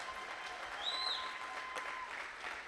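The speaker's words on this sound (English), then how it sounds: "how about a big round of applause for Team Frostbite for kicking off this morning's program?" A school-district event audience claps for a student team, a brief, full burst of applause with a short high whistle rising above it partway through.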